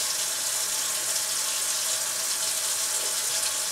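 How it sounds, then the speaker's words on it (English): A kitchen sink faucet runs steadily after an unclogging repair, a continuous close hiss of water pouring into the basin with no voices. "I'm gonna turn the water on."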